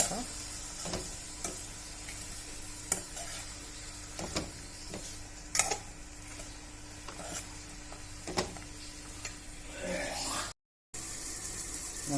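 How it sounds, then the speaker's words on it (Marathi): Tomatoes sauté in a pan with a steady, soft sizzle. A spatula stirs and taps them at irregular intervals, close by and fairly quiet. "आता टमाटर बऱ्यापैकी चांगले शिजले आहे छान परतून"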